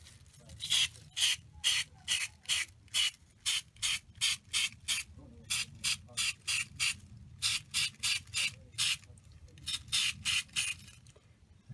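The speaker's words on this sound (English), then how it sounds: "I'm going to finish doing those and then we'll be back when they're finished spraying" Aerosol spray bursts coating Bolt Action US Airborne miniatures, about twenty-five short hisses in a steady rhythm of quick sweeps with brief pauses, close and fairly loud over a faint low background hum.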